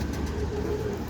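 Pigeons cooing softly over a steady background hum, a close, continuous low murmur with no voices.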